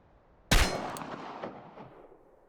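A single sharp gunshot at a shooting-range target in the video game Chernobylite, loud and close, with a reverberant tail that fades over about two seconds.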